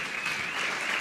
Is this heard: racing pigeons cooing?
no